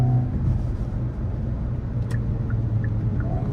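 Hyundai Kona N accelerating hard with its front tires spinning, a steady low engine rumble and road roar heard from inside the car, continuous and fairly loud throughout with no talking.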